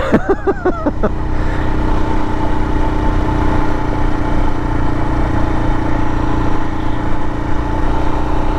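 A Royal Enfield Himalayan motorcycle engine runs steadily at low revs while climbing in snow, a continuous loud drone with a brief rising rev near the start.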